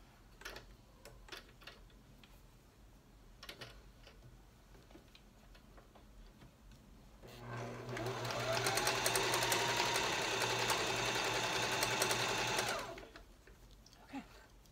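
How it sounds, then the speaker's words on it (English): A sewing machine stitches flat the edges of the fabric panels for a batwing mask. It runs loud and steady for about five seconds after some quiet handling clicks, then stops. "Sew those flat."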